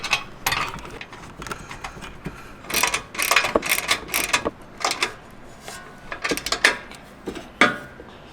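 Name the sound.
wrench tightening a fitting on an air compressor mount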